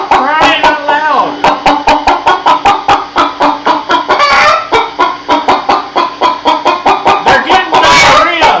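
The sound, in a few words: chickens clucking and crying out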